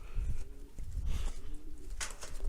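English pouter pigeons give soft, low, repeated coos close by, in short rolling bursts.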